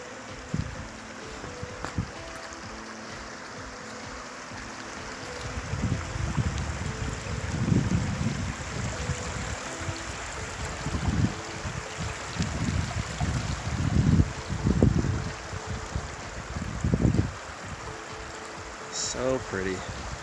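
Red Creek in the Dolly Sods Wilderness flows through the woods with a soft, steady rushing murmur, joined by scattered nearby crunches and knocks as someone moves along the bank.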